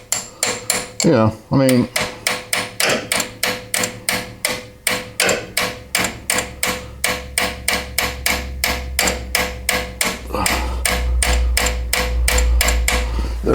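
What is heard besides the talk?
tapping metal with a wrench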